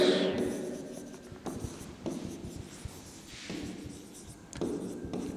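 Pen or marker writing notes and arrows on a board during a chemistry lecture, soft scratchy strokes in short runs with brief gaps, quiet and close.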